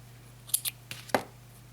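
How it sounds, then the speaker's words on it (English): Scissors snip through crochet yarn on an I-cord necklace, giving a few quick, close, crisp cuts in a short burst over a steady low hum. "And then just snip that off."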